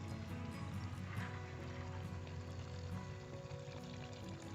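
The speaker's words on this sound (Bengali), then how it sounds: "এইবারে আমরা দিয়ে দেব জল।" Water poured into a pot of mutton and potatoes for boiling, a faint, steady, continuous splashing flow with a background hum and no voices.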